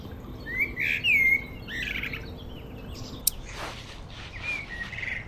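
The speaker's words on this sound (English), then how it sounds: "The birds do the siren noises?" Close, clear bird chirps and whistled phrases come in short bursts, with a sharp click partway through, from a bird outdoors near a garden.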